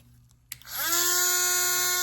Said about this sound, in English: I've got a little drill that has a sander on the end.